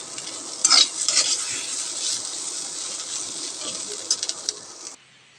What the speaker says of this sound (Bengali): রান্না করার জন্য কিন্তু একটু পর পর নাড়াচাড়া করে দিতে হবে,